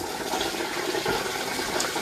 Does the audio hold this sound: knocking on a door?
no